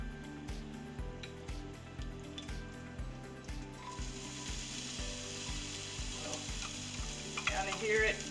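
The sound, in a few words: oil frying on an electric stove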